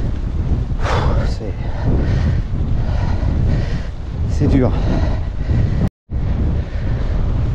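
Strong wind buffeting the microphone during an uphill mountain bike ride in the countryside, loud continuous roaring gusts with someone speaking briefly over it.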